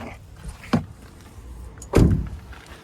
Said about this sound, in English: you're gonna have the hood latch release over here. Pull on it